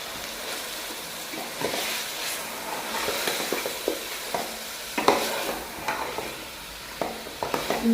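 Beef aloo gosht with ginger paste stirred in a pot, a soft continuous sizzle broken by repeated scraping and clattering of a spoon against the pot, close and unhurried, no talk.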